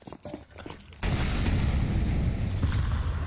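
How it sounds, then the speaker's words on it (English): A flashbang grenade goes off in Counter-Strike with a sudden loud burst that turns into a sustained bright ringing roar, masking the quieter game sounds that come before it. "Single flashbang here for Try."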